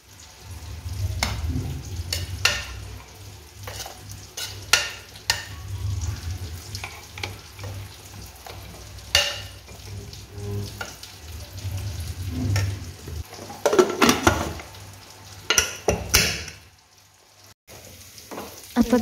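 Chicken sizzles and fries in a pan while being stirred, giving steady crackling with scraping and clinks throughout; no speech.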